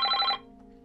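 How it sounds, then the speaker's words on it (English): Telephone line ringing through a Tempo TM900 butt set: one short electronic ring burst, clear and close, that cuts off and leaves a faint hum. "So that's ringing, and after a couple of seconds it'll just say missed call."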